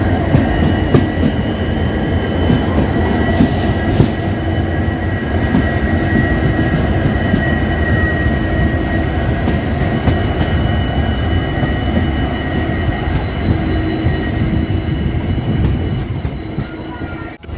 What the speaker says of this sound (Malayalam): ട്രെയിൻ ഇപ്പോൾ കുലം റെയിൽവേ സ്റ്റേഷനിലേക്ക് എത്തിരിക്കുകയാണ്